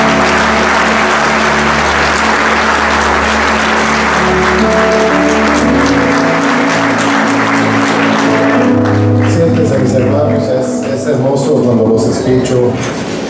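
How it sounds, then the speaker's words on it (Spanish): Loud, sustained applause for the pastors at a parish praise night, a dense wash of clapping over music that continues throughout, with a voice speaking over it. "Voy a invitar ese aplauso fuerte a todos los pastores."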